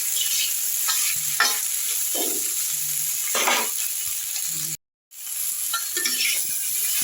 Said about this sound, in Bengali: আলুটা আর ডাঁটাটা আমি একটু ভালো করে আগে ভেজে নিচ্ছি।